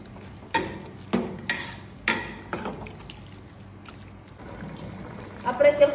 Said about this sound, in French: Remuer un peu